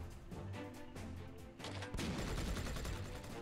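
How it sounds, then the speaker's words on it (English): A tank firing in the strategy game Tiny Metal, with a burst of blasts and crashing impacts over game music, loud and dense toward the end. "Alright, so this tank can fire all the way here."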